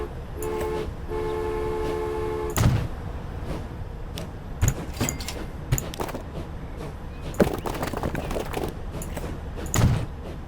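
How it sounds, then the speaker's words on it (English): A train in Transport Fever 2 rolls under a low bridge, its rumble steady throughout, with a brief sustained horn tone early on and scattered knocks and clanks. "the train should be able to go over it, under it"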